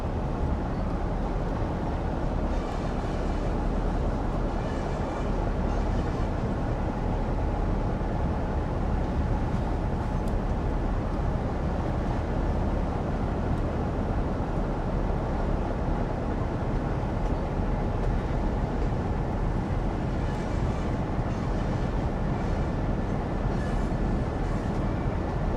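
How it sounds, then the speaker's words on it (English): A train runs along the Manchester–Leeds route in the Train Sim World game, a constant, dense rumble with steady rolling noise that holds at one level throughout, with no voices. "Alright, we're gonna keep the train going now."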